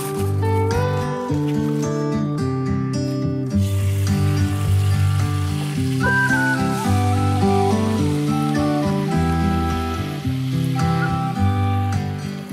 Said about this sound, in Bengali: এখন আমি ম্যারিনেশনটা, মাংসটা দিয়ে দেব।